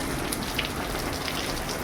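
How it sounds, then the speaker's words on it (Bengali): Rainwater falls through a poorly repaired roof during a downpour, a dense, steady patter and splatter that stays even and close throughout with no voices. "এই যে দেখুন কীভাবে জল পড়ছে"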